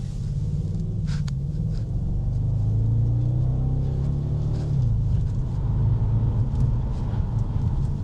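Audi S5 engine under hard acceleration from inside the car, a steady loud low rumble rising in pitch and holding strong throughout, with no speech.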